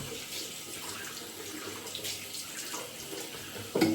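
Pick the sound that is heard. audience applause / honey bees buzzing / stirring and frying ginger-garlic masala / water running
water running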